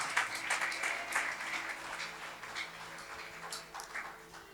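A church congregation at a French-language prophetic evening service claps and cheers together, a dense, continuous wash of applause with voices mixed in, steady and fairly close throughout.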